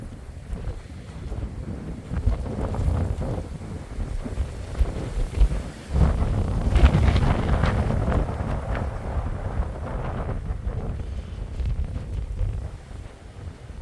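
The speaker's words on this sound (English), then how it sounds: "Wind's picking up" Strong outdoor wind buffets the microphone throughout, a continuous low roaring rumble with gusty surges and no speech.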